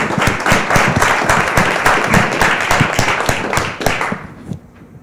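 An audience at a conference presentation gives a round of applause. Dense, steady clapping from many hands sounds close and loud, then fades out near the end.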